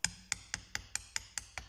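A hammer taps lightly on a tool pressing a camshaft oil seal into a Fiat Punto engine, eight sharp, evenly spaced metallic knocks, close and clear with no talk.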